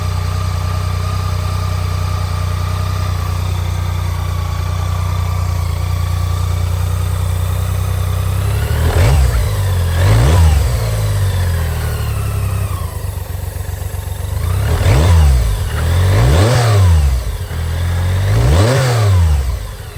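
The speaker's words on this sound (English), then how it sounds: "This is a water-cooled bike. It's super nice. Call these brick engines. Basically a inline 3." Water-cooled inline-three motorcycle engine idling smoothly at close range, then revved hard several times in short bursts, each rev climbing and falling back to a steady idle.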